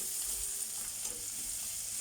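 Steady hissing sizzle of butter frying in a pan, continuous and close, with no talking.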